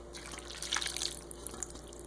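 Meat juice left from cooking is poured back into a pan of ground meat for kasoy meat sauce, giving a steady close trickle and splash of liquid with faint drips, with no talking.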